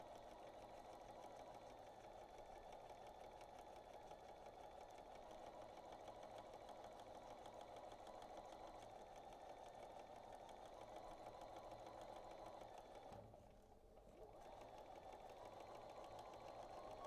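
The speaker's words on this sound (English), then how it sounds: "So now I'm just going to lift this up, and we just continue sewing." A sewing machine hums steadily and continuously while stitching quilt fabric, with a brief dip in the motor sound near the end.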